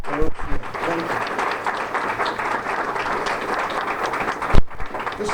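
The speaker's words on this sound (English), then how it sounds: "he deserves a round of applause" An audience at a new Chamber of Commerce office opening gives a continuous round of applause, dense steady clapping filling the whole stretch, with a sharp clap or knock near the end.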